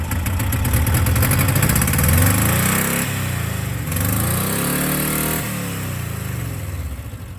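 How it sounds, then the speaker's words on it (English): A 1984 Subaru Brat engine, started after sitting for ten years, runs steadily and loud at close range. Its idle rises and falls through several revving swells, and no one speaks over it. "She runs like she was never parked. She's firing on all cylinders."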